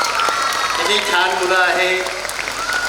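An audience claps steadily at an abacus competition award function, a dense, continuous patter of applause with a voice talking over it throughout.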